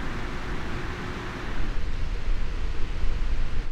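Two graphics card cooling fans on a 7900 XTX running at 85% speed, giving a steady, moderately loud whooshing airflow noise with no voices.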